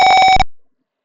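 A single short electronic buzzer tone from an Arduino car distance-sensor circuit in Tinkercad sounds loud and steady for under half a second, then cuts off into silence.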